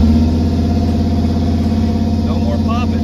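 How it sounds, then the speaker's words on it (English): Car engine after a carburetor repair running at raised revs up close, a steady loud throbbing drone without popping or backfires, with a voice briefly heard over it. "It revs a lot better than it did."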